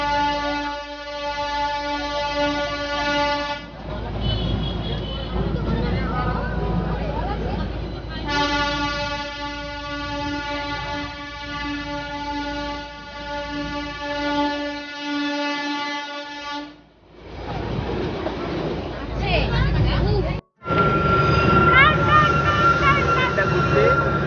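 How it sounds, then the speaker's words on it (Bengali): The Darjeeling toy train runs along after pulling out of the station, with long, loud horn blasts over rumbling wheels and carriage clatter, and people talking in between. "ট্রেন ছেড়ে দিয়েছে।"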